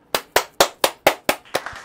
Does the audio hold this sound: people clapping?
yes